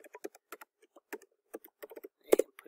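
Password keys tapped on a computer keyboard in irregular quick bursts of clicks, close and fairly quiet, with one louder double strike near the end.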